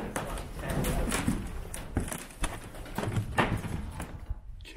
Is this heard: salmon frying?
no